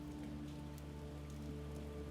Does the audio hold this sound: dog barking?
no